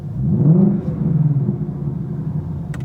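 A Ford Shelby GT500 engine idles in normal exhaust mode with a steady low rumble, swelling slightly early on then settling into an even hum, with a brief click near the end.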